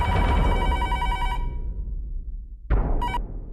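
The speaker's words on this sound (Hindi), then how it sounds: "अरे बाप रे, किसका फोन है देख बेटा" A telephone bell rings loudly for over a second, stops, then bursts briefly again after a pause, with no voices.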